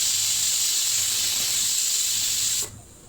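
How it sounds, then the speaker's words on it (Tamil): A loud, steady hissing whistle of steam from a pressure cooker pours out for a few seconds, then cuts off abruptly, leaving a faint background hush. "அவ்வளோதான் வந்து விசில் வந்துச்சு."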